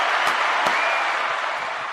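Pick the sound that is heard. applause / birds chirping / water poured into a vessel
applause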